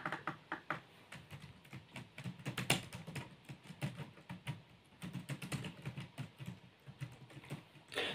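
Steady keyboard typing, as someone enters details into a CV on a computer, with quick irregular key clicks in clustered bursts running continuously, fairly faint and close, with no speech.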